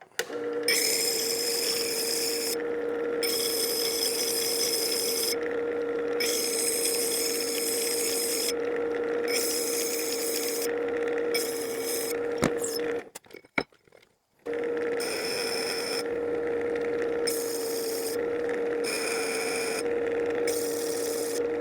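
A 350 grit diamond sharpening wheel grinds the back of a blade in a shop, a loud, steady whir with a high scraping hiss that cuts in and out as the blade is lifted, then pauses briefly before resuming.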